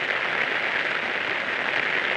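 Rain pours down steadily in Chhingchhip, Mizoram, a dense even hiss of drops on surfaces that stays loud and unbroken throughout.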